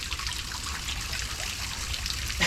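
Water from a newly installed homemade fountain splashes and trickles steadily, a close, continuous bright spatter with no pauses.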